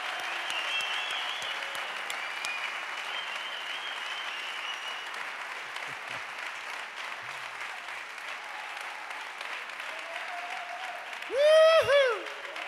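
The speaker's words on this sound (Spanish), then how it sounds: "Quiero que le deis un fuerte aplauso," Concert audience applauding steadily for about twelve seconds, a sustained wash of clapping at moderate level, with a brief whistle or cheer near the end.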